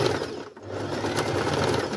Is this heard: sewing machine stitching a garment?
yes